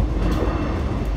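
A Melbourne suburban train runs along steadily, a close, constant low rumble of wheels and carriage noise with no break or talk.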